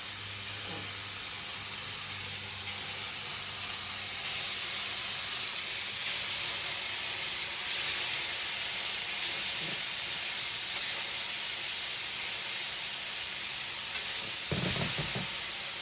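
Food seared in a hot pan on high heat gives a steady, close hiss and sizzle that holds unbroken throughout, with a faint clatter near the end.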